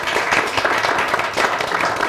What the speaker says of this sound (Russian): На этом тогда предлагаю завершать наш раунд аплодисментами.